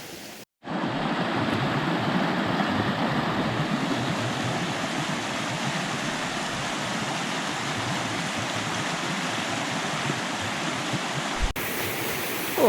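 Steady rushing water of Agency Creek near Lemhi Pass flows continuously and loudly, a dense broadband wash with no voices.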